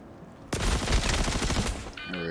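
Rapid gunfire bursts from a weapon in the space game Star Citizen, a dense, loud volley of cracking shots lasting about a second and a half, followed by a brief electronic tone.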